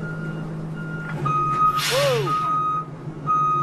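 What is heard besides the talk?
truck reversing beeps as it backs up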